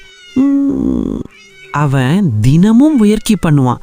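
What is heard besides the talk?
meow-like cat sound from cartoon lion cub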